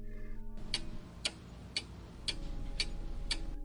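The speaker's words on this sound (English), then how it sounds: "the only sound was the ticking of the old grandfather clock in the hallway" A grandfather clock ticks steadily, about six crisp, evenly spaced ticks roughly half a second apart, in an otherwise quiet room.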